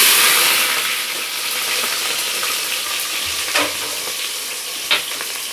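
Onions fry in hot ghee with a close, steady sizzle, broken by a couple of brief stirring scrapes or taps.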